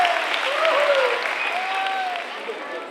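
Applause from a school Halloween party audience, dense clapping with overlapping voices and cheers that swells early and gradually fades.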